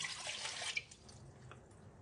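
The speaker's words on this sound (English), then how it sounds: "you want to put the water" Water runs from a tap into a bowl for pizza dough, a soft hissing splash for about a second that fades into quiet dripping, faint and close.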